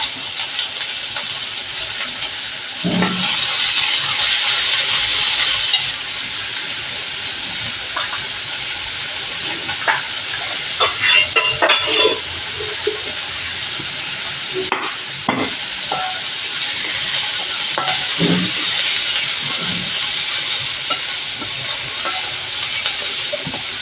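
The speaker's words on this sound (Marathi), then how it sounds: "कांदा जर आपल्याला झटकन परतून घ्यायचा असेल तर त्यावर एक चिमूटभर मीठ टाकायचं" Finely chopped onion and large green chilli pieces sautéing in a pan, a steady close sizzle with a louder hissing burst early on and scattered clicks and scrapes of stirring.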